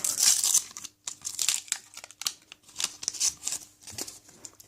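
A Lego Ninjago Panini sticker packet is torn open up close, with bursts of crinkling and ripping wrapper separated by short pauses.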